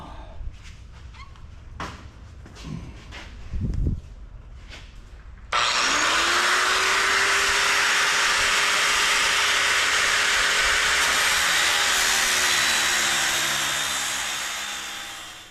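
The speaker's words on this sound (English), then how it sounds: "The sparking is because the cutoff wheel is rubbing up against the ferrous frame of the transformer." A cutoff wheel grinds into the ferrous steel frame of a transformer held in a vise, starting with a few knocks and scrapes, then breaking into a loud, steady, high-pitched cutting whine that runs unbroken and slowly fades at the end.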